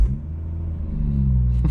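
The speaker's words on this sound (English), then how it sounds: "when you start up for the first time, you get a cold start, which sounds like this." A BMW M140i engine cold starts in a close, loud, steady idle with a deep low rumble and strong harmonic drone, with a slight rise in level toward the end.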